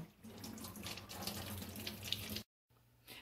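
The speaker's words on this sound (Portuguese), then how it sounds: "A gente vai lavando, ó, e vamos separando." Pequi fruit being washed under a running kitchen tap, a steady hiss and splash of water that cuts off briefly near the end, then resumes.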